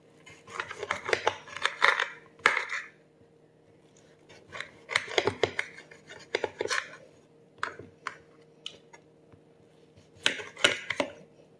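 A knife slices through a lemon for boiling into juice, producing clusters of crisp cutting and tapping sounds on a board in three or four short bursts separated by quiet pauses.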